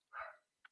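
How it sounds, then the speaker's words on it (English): A single short, faint bark from a small dog, followed by a tiny yip, heard from a distance. "I apologize for the barking pup."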